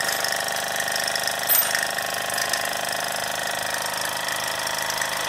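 A 1960s Mamod SR1 toy steam roller runs steadily with its small steam engine, giving a continuous close hiss and mechanical chatter for several seconds with no talking.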